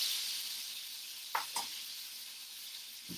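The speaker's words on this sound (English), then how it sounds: "More super sizzling." Chateaubriand beef sizzles steadily in a hot pan, a bright continuous hiss with two brief louder spits or stirs near the middle.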